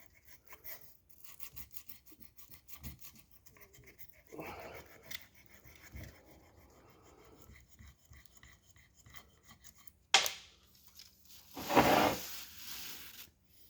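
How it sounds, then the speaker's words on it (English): Tool steel being sanded by hand with 220 grit sandpaper, worked in circles around the part. The rasping is soft and uneven, with quiet strokes at first, then louder, harsher scrubbing bursts near the end. "I'm just going around it, and I'm sanding it. And this is, I think, 220."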